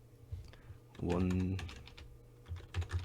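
Computer keyboard keys clack in a brief burst while entering text in CAD drafting software, a few soft taps including an Enter press, under someone speaking Korean.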